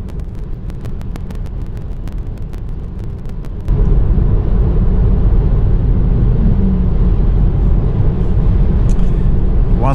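Tesla car driving on the highway under Navigate on Autopilot, heard from inside the cabin as a steady loud road and wind roar that swells midway, with a few faint clicks early on and no talking.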